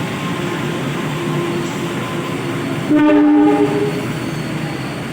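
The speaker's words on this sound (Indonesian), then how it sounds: "menunggu kereta api lokal Dohonya datang" A local Dhoho passenger train rumbles steadily nearby as it arrives at a station in Surabaya, Indonesia, and a loud horn blast of about a second sounds midway as it approaches.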